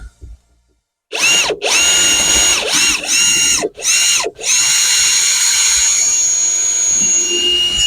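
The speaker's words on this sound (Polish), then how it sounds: "Teraz sobie to bardziej na wierce." A cordless power drill boring into a wooden window frame while fitting a trickle vent, with a loud high whine that revs up and down in several short bursts, then runs steadily for several seconds.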